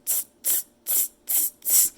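Five evenly spaced bursts of high, airy hissing with a faint chirping edge from an espresso machine steam wand pulled near the surface of milk to aerate it, close and loud, no voices.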